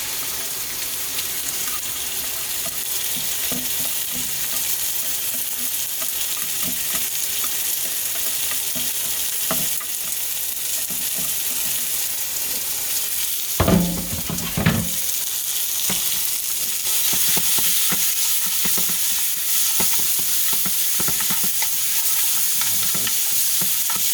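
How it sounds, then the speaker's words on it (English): Raw meat being stir-fried and browned in a hot wok for crispy noodles, a loud continuous sizzle with spatula scrapes and a brief clattering burst midway, no talking. "Typical stir fry the meat, brown it, get a little flavor"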